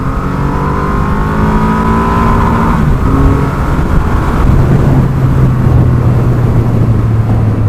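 Triumph Rocket 3 R 2500cc motorcycle accelerating hard, a loud, continuous engine roar whose pitch sweeps and shifts through gear changes, mixed with steady wind rush and no talking.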